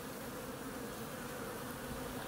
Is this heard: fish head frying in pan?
no